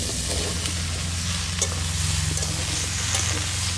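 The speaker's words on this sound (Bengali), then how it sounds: "আর এই কড়াইতে যে বাদ বাকিটুকু পড়ে আছে এর মধ্যে যে কেটে রাখা সবজিগুলো দিয়ে দেবো।" Chopped bitter gourd, ridge gourd and potato being stir-fried in oil in a wok give a continuous close sizzle, with scraping stirs and small clatters throughout and no talking.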